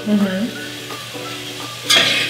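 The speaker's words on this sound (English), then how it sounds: "I want to get a good sear on the mushrooms as well" Mushrooms searing in a hot pan while making instant ramen, a close, loud sizzle with stirring scrapes and a sharp hiss burst near the end.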